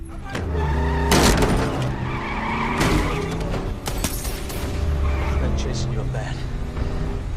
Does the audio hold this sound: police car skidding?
yes